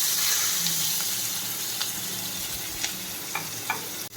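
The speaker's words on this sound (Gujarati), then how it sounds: "હવે ડુંગળીનો વઘાર કરવાનો છે. ડુંગળી બધી નાખી દઈશું." Onions sizzle steadily in hot oil seasoned with asafoetida and turmeric, a close, continuous fry with a few sharp clicks of a utensil against the pan.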